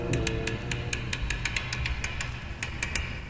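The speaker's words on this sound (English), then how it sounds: "the clicking noises you hear are the tumblers of a lock magnified many times by intricate amplification equipment" Amplified clicking of bank vault lock tumblers on a maximum security walk-in vault, a regular series of sharp, close ticks over a low mechanical hum, heard alone.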